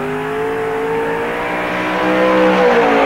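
A NASCAR race car, the 41T of Terry Golder out of Hooper, Nebraska, laps Park Jefferson Speedway during 1997 Busch All Star Tour qualifying, its engine a steady loud roar with harmonic whine that swells slightly toward the end.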